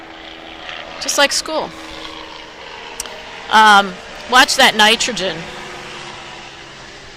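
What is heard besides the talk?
helicopter flying overhead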